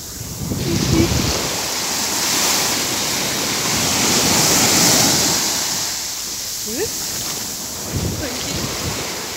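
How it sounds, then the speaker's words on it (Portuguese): Ocean waves wash and surge continuously against a beach at Caraguatatuba, mixed with gusty wind rushing across the microphone. "as ondas indo."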